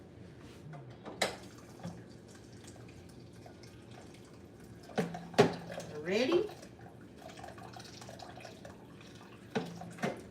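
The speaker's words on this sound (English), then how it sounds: "And now I'm gonna add hot water to it." Hot water is poured onto drained quinoa in a pot, with a short splashing pour amid clinks of dishes and scattered drips; a person speaks briefly nearby.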